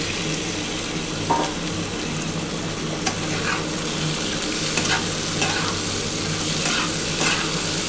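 Fried pumpkin and potato being stirred in a pan with onion, tomato and ginger, giving a steady sizzle throughout with scattered scraping clicks of the spatula; no talk.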